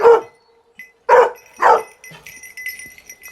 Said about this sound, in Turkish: Bu da domuz köpeği arkadaşlar. Bu da çok sert.